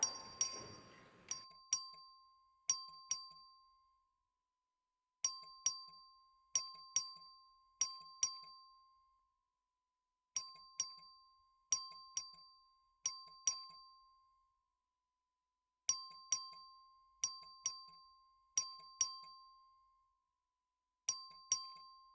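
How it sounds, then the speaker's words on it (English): In the Texas House of Representatives chamber, the clerk rings the voting bell, which sounds as faint, clear chimes in repeated clusters of four or five strikes separated by short pauses. "The clerk will ring the bell."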